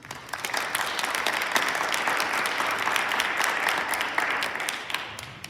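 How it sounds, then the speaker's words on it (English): Steady, dense audience applause at an author talk on water, a full room clapping continuously at even loudness for several seconds with no voices over it. "Please give a round of applause for Peter."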